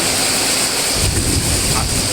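Heavy morning rain on the last day of Navaratri pours down as a loud, dense, unbroken hiss that fills the brief moment, with no voices.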